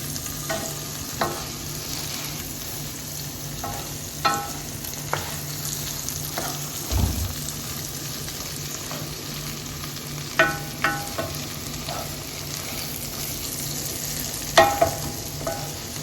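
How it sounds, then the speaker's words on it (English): Scallion, thyme, tomato, scotch bonnet and green peppers sizzle softly in a frying pan, with a steady hiss and scattered scraping stirs and light clicks of a utensil against the pan. "And we're just going to stir everything together."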